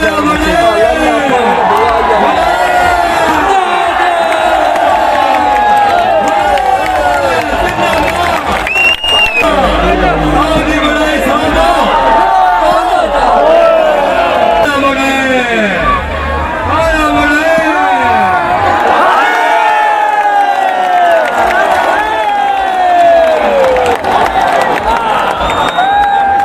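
Large outdoor crowd at a shooting volleyball show match in Okara roaring and cheering continuously, with whoops and scattered applause, loud and dense throughout, a voice calling over it.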